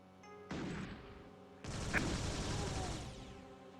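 Video game gunfire rings out in a Doom map while enemies are sniped from a safe spot, two bursts of dense, crackling shots, the second longer and louder, over a quiet background.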